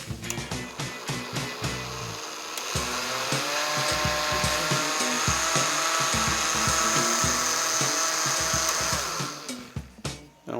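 A food processor whirs in short pulses before a long sustained run, its motor loud and close with a steady high whine, then breaks back into brief bursts at the end.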